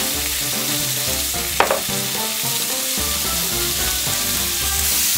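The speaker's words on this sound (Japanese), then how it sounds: "お野菜を投入。 軽く塩コショウし下味をつけておく。" Vegetables stir-fried in a pan for a quick Chinese-style curry, with loud continuous sizzling and frying throughout and a single sharp clatter of utensil against the pan, no talk.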